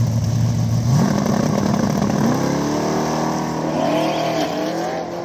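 An old Chevy Nova with a 350, powerglide transmission, nitrous converter and two-step launch control making a drag-strip test pass, loud engine revs climbing steadily and then sweeping as the car pulls away, alone with no talk.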